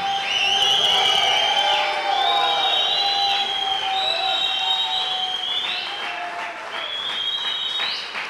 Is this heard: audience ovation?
yes